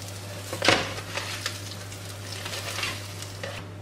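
Katmer flatbread frying in a pan gives a steady, soft sizzle with a brief louder crackle near the start and faint scattered spatters afterward, with no voices.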